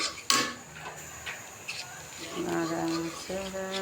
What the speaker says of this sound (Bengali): জল দিয়ে একটুখানি নাড়াচাড়া করে